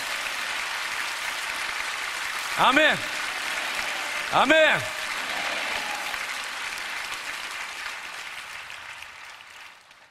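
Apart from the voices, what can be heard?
congregation applauding in praise of God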